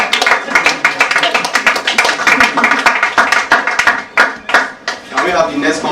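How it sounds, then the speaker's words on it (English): An audience claps during a live-streamed show, a burst of sharp, uneven hand claps repeating close by with voices talking over and between them. "Can't you clap for them?"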